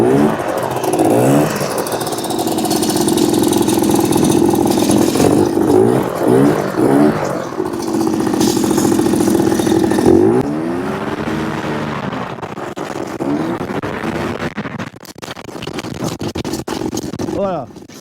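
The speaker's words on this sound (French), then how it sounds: "Voilà, Daniel fait chauffer le moteur, hein." A paramotor's propeller engine runs loud and close, its revs rising and falling repeatedly as it warms up.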